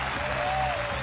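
Crowd applauding and cheering at a League of Legends All-Star 2016 event, a steady dense wash of clapping that fills the space throughout, with faint commentary underneath.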